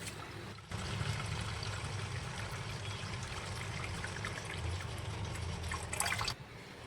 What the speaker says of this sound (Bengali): তো মাছ ভালো করে ধুয়ে নিই